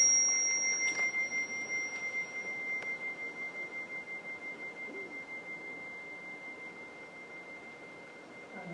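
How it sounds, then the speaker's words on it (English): A mindfulness bell is struck once and its steady ringing tone slowly fades away over several seconds, clear and alone in a quiet room during a mindfulness keynote talk. "When I ring the bell, see if you can listen and hear the beginning, middle, and end sound of the bell as it fades."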